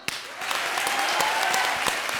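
Loud applause from a television comedy show audience, dense continuous clapping that swells in quickly and holds steady, with sharper individual claps popping out of the crowd sound.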